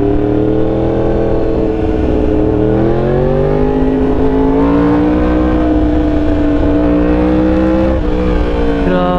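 A Yamaha R1 motorcycle with an SC Project exhaust and Ohlins Racing reflash, running close and loud with a deep, throaty engine note that climbs and falls through sustained revs.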